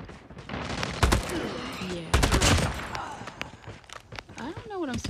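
Rapid video game gunfire while burning through ammo, bursts of shots and sharp cracks mixed with footsteps and game effects, loud and close over a few seconds.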